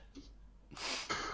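A single quiet sneeze, a faint intake of breath followed by a short burst of air, heard during a live talk show.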